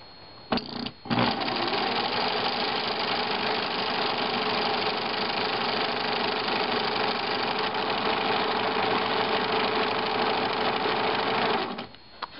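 A sewing machine winds a bobbin in one steady, loud whir lasting about ten seconds, starting with a couple of brief stutters and stopping abruptly.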